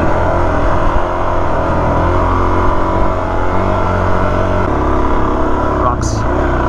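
Suzuki DRZ400 dirt bike crawling slowly over sandy, rocky terrain, its engine a steady loud low drone close by, with a brief sharper knock near the end.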